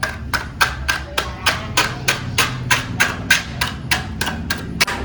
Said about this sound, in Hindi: और इस सीमेंट को खुरचते हैं